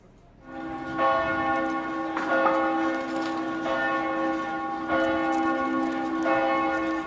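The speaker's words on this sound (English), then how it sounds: "Churches around the country rang their bells for 5 minutes before the planes carrying the bodies landed." Church bells ring across the Netherlands in national mourning, a sustained, resonant peal with repeated strikes every second or so, loud and clear with no voices.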